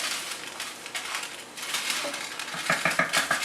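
Onions stirred with curry powder and chili powder in a cooking pan, giving scraping and clinking spatula-on-pan sounds that grow sharper and more rhythmic toward the end, close and fairly quiet, with no talking.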